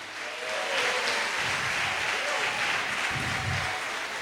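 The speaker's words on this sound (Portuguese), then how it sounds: "Aplauda Ele esta noite." A church congregation at a Sunday service applauds, broad sustained clapping from many hands holding steady throughout, with low voices and cheering mixed in underneath.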